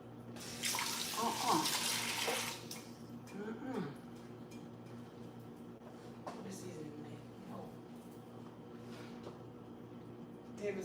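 Chicken feet being washed in a pot under running water for Jamaican chicken foot soup, with a steady tap stream that is loudest at the start and then continues as lighter splashing while people talk in the background.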